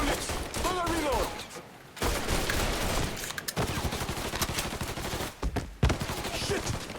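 Heavy gunfire in the video game Mafia 3, with dense volleys and bursts of shots that break off briefly and then resume, loud and close, with some talk mixed in.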